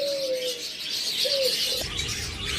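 Pet pigeons coo in a few short, soft low calls against a steady background of chirping birds, with no voices present.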